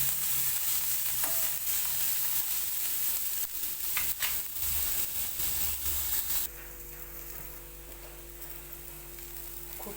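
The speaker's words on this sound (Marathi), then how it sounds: "छान अशी भाजून घेतली आता" Peanuts with coriander and turmeric stir-fried in a pan, a continuous sizzling hiss with scraping stir sounds that drops to a quieter bubbling simmer partway through.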